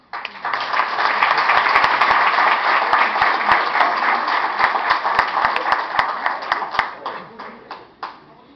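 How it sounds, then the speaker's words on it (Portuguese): An audience at an association's medal and diploma ceremony breaks into sustained applause, dense and loud for several seconds before thinning into individual claps and stopping, with voices faintly underneath. "Com esses aplausos."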